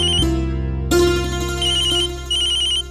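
A mobile phone rings with a loud electronic ringtone, a sustained melodic tone with repeating bright chimes, heard alone in a quiet indoor family setting.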